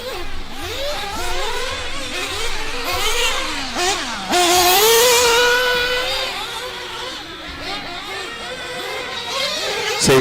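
Radio-controlled race trucks lap a raceway at a charity race, their small engines whining loudly and rising and falling in pitch as they accelerate, pass and fade, with no break.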